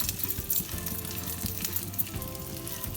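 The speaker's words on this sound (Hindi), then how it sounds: "तो अब हम इसमें डालेंगे थोड़े से रेजिन्स, किशमिश। इन्हें भी रोस्ट कर लेंगे।" Raisins roasting in a hot pan for Eid sevaiya give off a steady, close sizzle and crackle with soft stirring scrapes throughout, and no one speaks.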